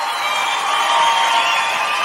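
A live audience cheering and applauding at a Greek laïko concert, a steady crowd roar with whoops, fairly loud and continuous.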